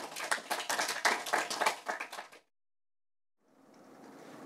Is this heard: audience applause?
yes